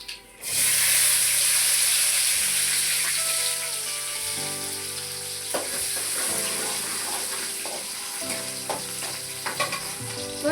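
Garlic dropped into hot oil after mustard seeds have popped, a loud burst of sizzling that settles into a steady close frying hiss with stirring clinks and scrapes, no voices.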